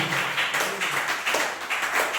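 A church congregation claps together during a worship service, a dense, continuous patter of many hands that stays fairly loud throughout with slight swells and no clear voices.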